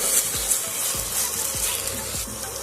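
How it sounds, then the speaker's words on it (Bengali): Onion with ginger-garlic paste frying in a pan for chicken kosha: a constant close sizzle broken by about four scraping stirs at roughly even intervals, with no one speaking. "আদা রসুনের কাঁচা গন্ধ যাচ্ছে ততক্ষণ পর্যন্ত খুব ভালো করে এটাকে ভাজতে হবে"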